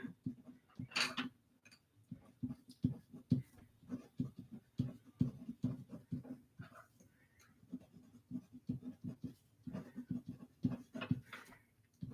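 Handwritten notes scratched onto paper with a pencil, quick irregular strokes and taps close up, coming in short bursts with brief pauses.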